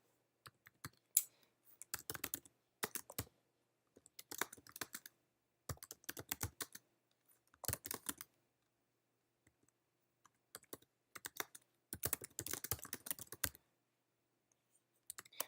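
Quick bursts of typing on a computer keyboard, close and fairly quiet, with short pauses between runs of clicking keys as text is entered into a design layout.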